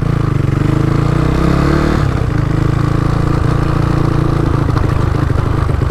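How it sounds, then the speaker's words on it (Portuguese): A loud Twister motorcycle engine roars steadily up close while riding, running smoothly, its pitch shifting as it eases off and picks up again. "Moto é lisinha pra andar, mano. Não fica engasgando nada."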